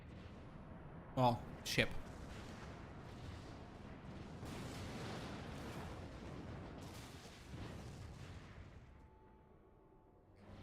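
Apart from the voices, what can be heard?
cannon fire in Final Fantasy XIV video game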